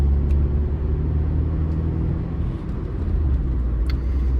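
Steady low engine rumble and road drone inside a moving 30-year-old Rover R8 214 Si hatchback, continuous and fairly loud with faint ticks from the cabin, no voices.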